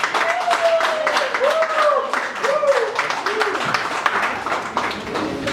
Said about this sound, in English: So please give a round of applause for Vivek sir.